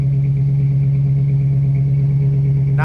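A 1968 Ford Country Sedan engine idling steadily, a close, loud, even low hum with a smooth, consistent rhythm throughout.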